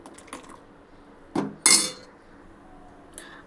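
Ragi java being stirred in a metal pot, with a couple of sharp spoon-on-pot scrapes and clinks around the middle, then quieter intermittent contact sounds at close range and no talking.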